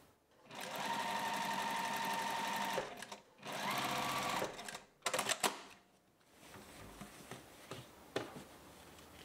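A sewing machine stitches an upper collar onto a garment in two long, steady whirring runs, then a few short stop-start bursts, finishing with quiet handling clicks.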